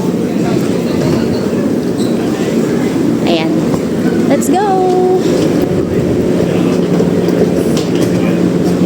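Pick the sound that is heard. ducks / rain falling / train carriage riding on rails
train carriage riding on rails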